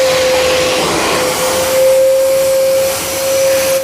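A vacuum cleaner with an aluminium metal tube and a floor brush attached to the hose runs loudly and steadily up close, a constant whining roar with a tonal hum that cuts off at the end.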